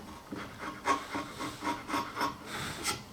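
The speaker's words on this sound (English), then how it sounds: "then we can come back with the chisel and just define" A chisel pares wood on a tapered sliding dovetail in a series of short, close scraping strokes, about half a dozen evenly spaced rasps, quiet with no talking.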